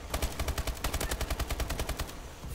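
Rapid automatic gunfire rattles in Call of Duty: Advanced Warfare during competitive play, a dense, loud, evenly spaced burst of shots sustained throughout with no talk.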